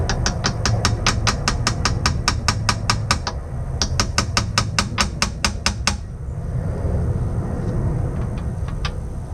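A rapid run of sharp metallic taps from a hammer striking a pin punch near glass enamel on a stove, close and steady, breaking off briefly and then stopping for quieter ambient noise.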